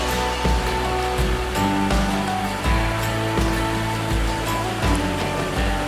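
Rushing water at the top of Rocky Falls, where a creek spills over rock, keeps up a steady, loud broadband roar with surf-like surges throughout, close by and with no voices.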